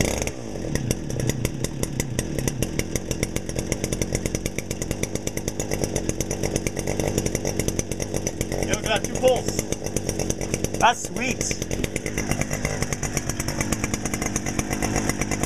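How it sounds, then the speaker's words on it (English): A small 40cc mid-sized chainsaw engine runs steadily at a high, buzzing pitch throughout, close by, with brief talk over it. "Look at that purr of that 40cc engine."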